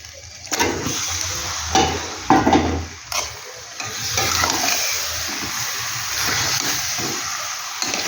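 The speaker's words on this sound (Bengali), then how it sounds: "এই আমি চিকেনটা আমি দিয়ে দিচ্ছি।" Marinated chicken coated in yogurt and chili powder goes into a pan for chicken kosha, followed by steady sizzling and frying with a few stirring scrapes, close and moderately loud.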